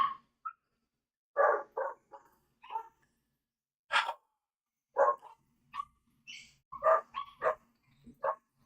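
Dogs bark in scattered single and double woofs, fairly quiet and somewhat distant, with gaps of silence between them.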